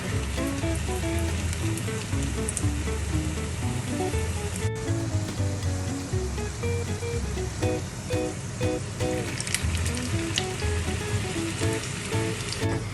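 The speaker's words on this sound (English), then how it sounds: "Heat the oil for shallow frying and gently slide the murtabak." Steady, dense sizzling and crackling of murtabak shallow frying in hot oil, close and continuous, with a faint tonal hum running underneath.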